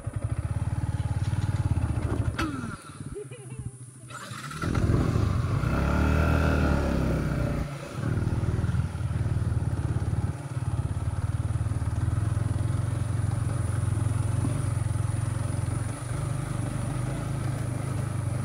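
A Yamaha MT-15 motorcycle runs continuously on a ride, its engine droning steadily close by with wind rush, a brief dip in the middle and a few clattering knocks.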